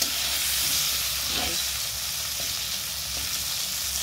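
A small amount of potato frying in a pan with a little oil, a steady soft sizzle with a few light stirring scrapes.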